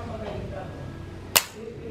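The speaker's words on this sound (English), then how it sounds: "I'm just going to do a little dry fire practice." A single sharp click as the trigger of an HK MP5 9mm is dry fired, one brief snap standing out over a low room hum.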